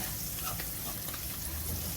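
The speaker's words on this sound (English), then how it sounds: "I'm frying this up" Steady, dense sizzling of food frying in bacon fat, close and fairly quiet, with faint stirring and no speech.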